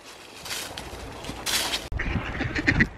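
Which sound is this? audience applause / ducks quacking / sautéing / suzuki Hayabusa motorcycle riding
ducks quacking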